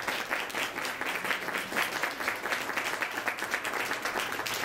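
An audience at an Oktoberfest gala breaks into steady, dense applause, with many hands clapping in a continuous patter that holds at an even level for several seconds, and no voices over it.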